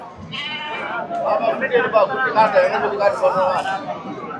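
Sheep bleat amid the crowd at the weekly goat and sheep market in Ranipet, several overlapping calls close by over a steady murmur of voices and market chatter.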